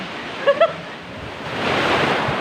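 Strong ocean waves wash onto a rocky beach at a cave-lined shore in Mauban, Quezon, a broad steady roar that swells louder toward the end, with two brief chirps near the start.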